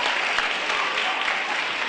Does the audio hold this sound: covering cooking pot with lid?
no